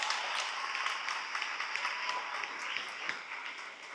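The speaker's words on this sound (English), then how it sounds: "So I think we can give them another round of applause." Audience applause after an original performance piece at a school anniversary celebration, a soft, distant-sounding patter of clapping with a few sharper individual claps, steady for about four seconds.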